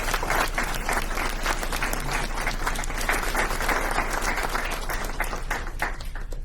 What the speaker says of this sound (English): So let's give one more round of applause to all of our students.